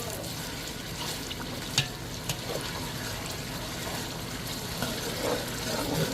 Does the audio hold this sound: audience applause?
no